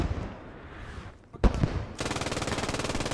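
Machine gun mounted on a half-track in a tactical war game, a single heavy report followed by a steady, rapid automatic burst that runs loud and continuous to the end.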